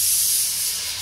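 Steam hisses steadily from a faulty pressure cooker making khichdi, a close, bright rushing sound with no voices over it.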